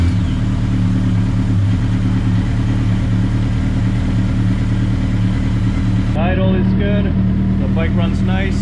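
Suzuki Hayabusa motorcycle engine idling steadily and loudly up close, a constant low rumble that continues under a person talking in the final seconds.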